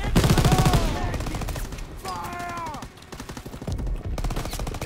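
Gunfire in Call of Duty WWII during a D-Day campaign battle, loud bursts of shots over game ambience with whistling tones, interrupted briefly then resuming.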